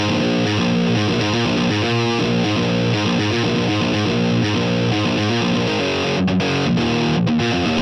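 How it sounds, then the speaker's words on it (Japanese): Heavily distorted high-gain electric guitar through an amp in its HBE high-gain mode and a Marshall Greenback 25 cabinet, playing loud, dense chugging riffs with sustained saturated chords and brief muted stops near the end. "このアンプには HBE というハイゲインモードが搭載されていて、歪みの強さをもう一段階上げることができます。"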